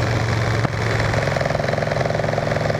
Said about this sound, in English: This bike's kind of loud.